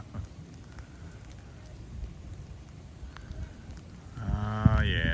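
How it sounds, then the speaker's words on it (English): Light, steady drizzle pattering at a campsite beside Lake Erie on a windy evening, a soft continuous hiss with occasional drops, with a brief burst of tonal sound near the end. "It's drizzling still"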